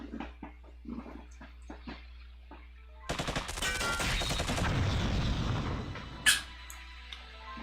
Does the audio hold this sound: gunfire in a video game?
yes